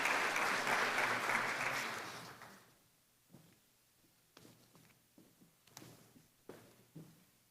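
An audience at an arts excellence awards ceremony applauds in a loud, dense burst that fades after a couple of seconds, leaving scattered claps and soft room noises.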